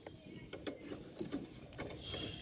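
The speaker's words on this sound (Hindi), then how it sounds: "देखिए यहाँ पे 14 mm का रैचेट का मैं यूज़ कर रहा हूँ।" A 14 mm ratchet works on a brake bolt of a Bajaj Pulsar 150 motorcycle. Soft, close clicks and ratcheting ticks come in short irregular bursts over a quiet background.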